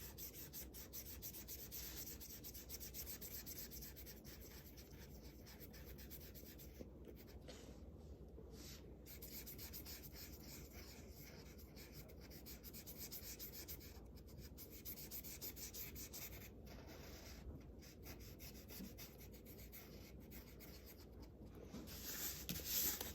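A pen scratches and rubs continuously across a drawing surface, a faint, close, steady scraping texture that goes on without pause and grows slightly louder at the end.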